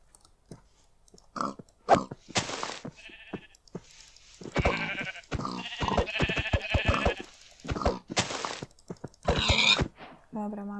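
Sheep in the Minecraft video game bleat in a series of short, nasal cries spread across the clip, alongside chewing-like game effects and someone talking over them.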